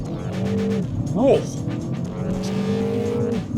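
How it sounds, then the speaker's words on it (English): A Mini Cooper S accelerating hard from 0 to 100, its engine note rising steadily and close up inside the cabin, with talk over it and a brief exclamation. "let's do a 0 to 100 quick"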